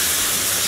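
Cleaner sprayed onto an AEM Dry Flow air filter at a soft-wash setting: a steady, close, continuous hiss with no pauses, heard alone.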